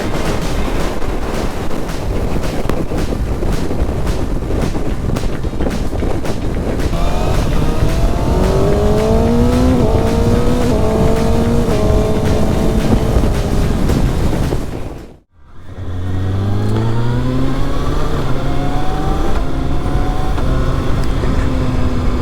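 Kawasaki ZX6R 2025 sport bike engine revving loud and close amid heavy wind rush, with rising and falling rev sweeps, a brief dip in sound, then strong revving again; distinct exhaust pops are not clearly picked out.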